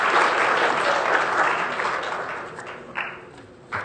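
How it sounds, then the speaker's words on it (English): Applause from the audience at a Palo Alto city council meeting: a dense wash of many hands clapping that fades gradually, with a few sharper claps standing out near the end. "Just another reminder about the applause, please."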